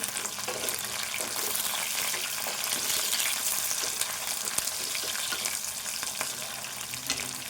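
Green chillies sizzle and crackle in hot oil in a pan while being stirred for a ridge gourd and soya chunk curry, a steady, close frying hiss with occasional scraping clicks throughout.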